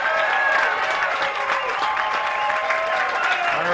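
Crowd at a Minnesota Class B state tournament baseball game between Eagan and Dundas, cheering and clapping continuously with shouts and whistles as the pitcher works one strike from an out.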